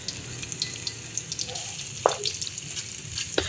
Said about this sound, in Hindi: अब हम इनको अच्छी तरह फ्राई करेंगे।